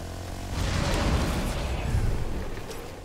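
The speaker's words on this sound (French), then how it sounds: "je suis en train de me faire tuer par un quad là" A quad bike revs and rumbles in a video game hide-and-seek match, a loud, sustained low engine drone with bursts and rushes of noise that fill the whole moment.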